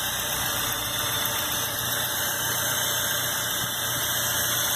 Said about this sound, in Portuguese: Motor já funcionando.